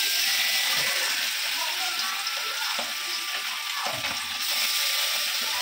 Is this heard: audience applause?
no